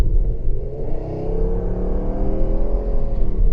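An Audi S6 pulls away under acceleration, its engine rumbling loud and close with rising, steady harmonics as it climbs through the revs, no voices present.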